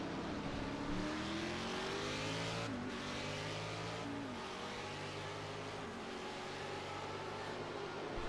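Prototype race cars at full throttle on a circuit during a Proto GT race, engines howling and shifting pitch through upshifts and downshifts, loud and continuous with no talk.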